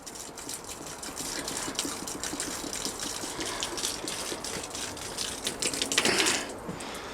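A squeezed bottle sucks up water from the bottom of a container while cleaning a car's DPF, a faint, continuous watery gurgle with a brief louder gush near the end.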